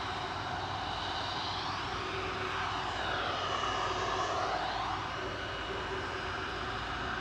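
EasyJet jet airliner lining up for departure at Manchester Airport, its engines giving a steady, broad roar with a rising and falling whine, heard from a fair distance throughout with no talk.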